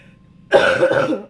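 A single harsh, rasping cough bursts out after a quiet start, close and loud, with a rough throaty tail lasting under a second.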